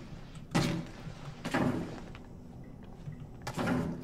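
An enemy repeatedly smashes his head into a door in Outlast Whistleblower, giving three heavy, booming thuds spaced about a second apart, each followed by a brief rattling decay.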